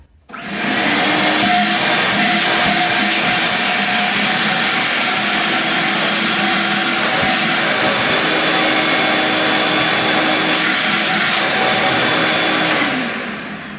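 A vacuum cleaner with a series-wound motor runs from an EGO battery, starting abruptly and holding a loud, steady roaring whine for about thirteen seconds before spinning down, close by, with no voices.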